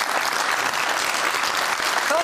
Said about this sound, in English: thought that might get a round of applause